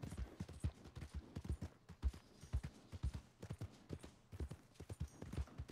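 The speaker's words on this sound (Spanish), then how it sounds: "Este caballo no es nuestro caballo." Horse hooves clip-clop in a steady, rhythmic trot in the Red Dead Redemption 2 video game, close and continuous with no talking.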